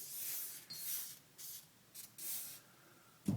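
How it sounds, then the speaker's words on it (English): Several short hissing bursts of penetrating fluid sprayed from an aerosol can onto a Kel-Tec Sub 2000 rifle, each about half a second, close and fairly loud, with brief quiet gaps between them. "I'm going to give this a liberal spray here."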